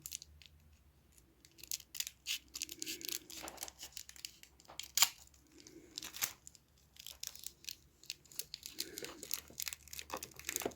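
Small plastic sachets of diamond painting beads crinkle and get snipped open with small scissors, a run of quiet crackles, rustles and sharp little cuts close by, with soft talk in places.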